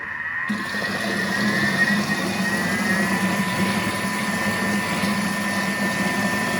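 A Thermomix running at speed 5 at 90 degrees, stirring butternut squash soup, starts after a brief pause and keeps up a steady motor whir with churning liquid.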